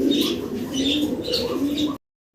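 Pigeons cooing close by, a steady run of soft, throaty repeated coos for about two seconds before cutting to silence.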